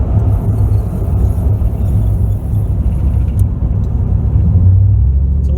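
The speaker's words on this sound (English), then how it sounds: "Listen to that nice rumble in overdrive." Steady low V8 engine rumble from inside a moving 2001 Ford E350 Super Duty van in overdrive, continuous and fairly loud with a deep droning tone throughout.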